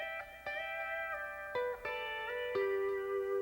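Pedal steel guitar plays a first instrumental line of a D lever seventh chord exercise, a series of plucked chords with gliding pitch bends and sustained ringing tones, soft and close with no talking.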